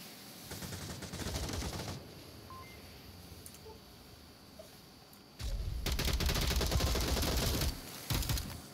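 Bursts of automatic gunfire in the VR shooter Onward, two long rattling volleys separated by quieter stretches with faint distant shots, then a short final burst.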